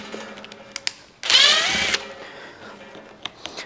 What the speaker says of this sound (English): I have my tamper-proof bit on the drill here